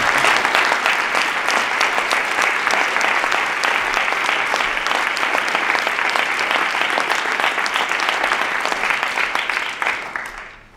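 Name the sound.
audience applause for Alain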